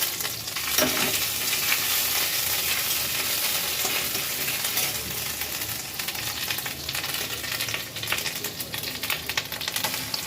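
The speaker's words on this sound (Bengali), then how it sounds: "সর্ষে পোস্ত পাতাটা দিয়ে দিলাম ভালো করে একটু ভেজে ভেজে নেব" Spice paste of poppy seed, mustard, ginger, coconut, Kashmiri chilli and turmeric sizzles and fries in a pan while being stirred for a paneer dish, a steady close hiss with scraping strokes throughout.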